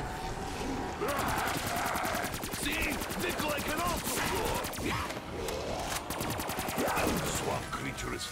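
KN-44 rifle fire in Call of Duty's Zetsubou no Shima zombies map comes as loud, rapid automatic bursts that run nearly continuously, mixed with game effects and a voice talking over them.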